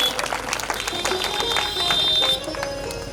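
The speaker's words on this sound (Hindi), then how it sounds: "बजा लो भाई, फिर बजाते ताली।" A crowd at a Devi Bhagwat katha religious discourse claps together in a steady patter. The clapping is moderately loud and slightly distant, with a sustained musical tone and faint voices underneath.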